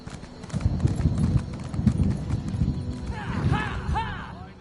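In Elder Scrolls Online on a snowy morning, a horse's hooves clip-clop in a quick, steady rhythm, up close and moderately loud. Near the end the horse lets out a whinny, and faint voices murmur underneath.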